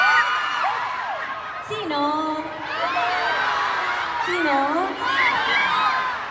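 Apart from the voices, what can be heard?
crowd screaming and cheering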